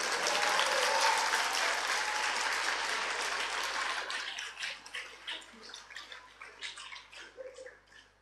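An audience at an Islamic religious lecture breaks into dense, loud applause that holds for several seconds, then thins into scattered, fading claps.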